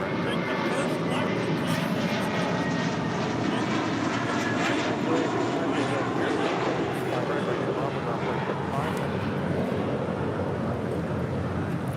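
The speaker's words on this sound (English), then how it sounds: "That was Una Nueva Mentalidad departing to Fort Lauderdale on A321 JetBlue Airways Flight 100." A JetBlue Airways Airbus A321 departing Los Angeles International Airport for Fort Lauderdale, a continuous jet engine rumble with a faint tonal hum, steady throughout beneath indistinct background voices.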